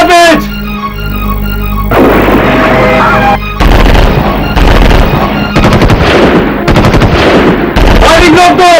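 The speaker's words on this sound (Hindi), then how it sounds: "फायरिंग रोक दो।" Loud, sustained gunfire in a dubbed action movie: rapid machine-gun bursts and heavy shots crackle nearly nonstop, layered over a droning music bed.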